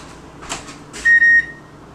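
A home oven's control panel gives a couple of soft button taps, then two sharp, close electronic beeps in quick succession as it is set to preheat, in an otherwise quiet kitchen.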